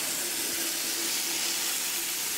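Water runs steadily from a faucet into a campground restroom sink, a continuous close hiss with no voices.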